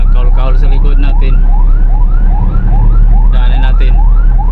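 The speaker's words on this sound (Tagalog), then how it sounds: "Ambulansya." An ambulance siren wails in rapid repeating upward sweeps, loud and close, amid traffic on an elevated Skyway expressway, with a low engine hum beneath and brief bursts of a second siren tone.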